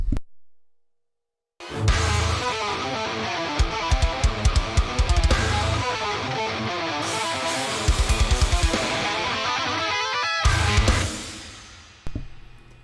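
After a brief silence, a fast electric guitar riff of rapid picked notes plays loudly and steadily over low thumping beats, ending with a short pause.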